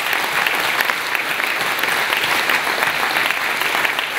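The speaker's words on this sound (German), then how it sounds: "herzlichen Applaus." Warm applause for Kari at a gymnastics club veterans' assembly in Nebikon, a thick, even wash of many hands clapping, loud and continuous without a break.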